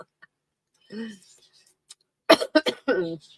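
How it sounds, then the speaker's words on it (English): A few close, sharp coughs in a quick cluster after a quiet stretch with a soft murmur. "I do still have the cough a little bit"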